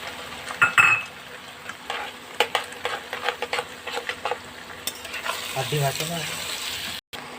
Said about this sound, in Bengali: চিচিঙ্গাটা ভাজা হয়ে আসছে, এবার দিয়ে দিব ডিম।